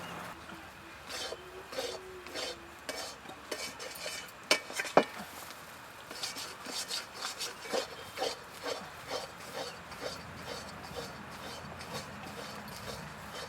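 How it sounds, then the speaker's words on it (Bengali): Dough for aloo parathas is portioned into balls. Faint, rhythmic knocks and clicks of cutting and handling on a board repeat steadily, with a couple of sharper metallic clinks partway through and no speech. "বন্ধুরা, এবার আমি পরোটার জন্য লেচি কেটে নিচ্ছি"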